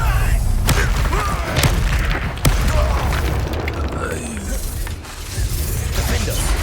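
Fiery blasts of the Confringo spell in Hogwarts Legacy, booming impacts and sharp cracks recurring over a busy combat soundscape with rumbling low end and game voices.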